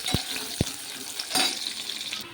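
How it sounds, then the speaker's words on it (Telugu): Onions fry in hot oil in a pan, with a soft sizzling hiss broken by a few sharp clinks and scraping stirs, close by and without speech. "ఇప్పుడు ఉల్లిగడ్డలు వేసుకుందామండి ఆయిల్ వేయండి ఉల్లిగడ్డలు ఎరగ్గానిద్దాం"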